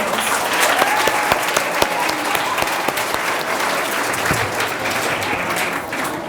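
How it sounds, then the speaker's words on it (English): Loud audience applause at a school Black History Month program, steady dense clapping from a crowd cheering student performers, sustained throughout. "Let's give a round of applause to all our student performers."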